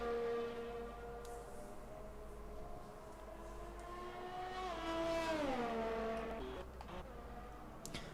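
Formula 1 Mercedes race car on track in Bahrain roars past with a high, whining engine note that rises, then drops sharply in pitch as it passes, over a steady low background hum.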